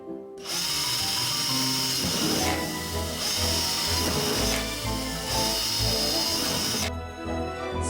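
A power drill bores holes during an art room makeover, whirring loudly in two long sustained bursts with brief pauses and a rubbing, grinding texture.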